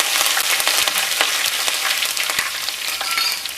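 Curry leaves and sesame seeds, with mustard seeds, cumin and asafoetida, crackle in hot oil as a close, steady sizzle full of sharp spitting pops, with no voices.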